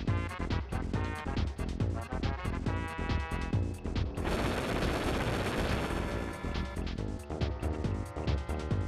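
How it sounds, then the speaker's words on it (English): Breaker Beam attack in Super Mario RPG: Legend of the Seven Stars fires as a loud, dense burst of crackling, crashing energy blasts, preceded by rapid rhythmic game-music hits, sustained for several seconds without any voice. "Force beam energized, maximum charge. Now fire the breaker."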